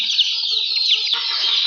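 A hen that has just laid eggs clucks close by in a steady run of short, nasal calls, then gives a brief sharp squawk before the clucking trails off.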